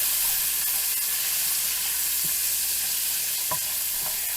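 Onion cooks in rendered bacon fat, giving a steady, dense sizzle and crackle throughout with a few faint stirring clicks and no talking.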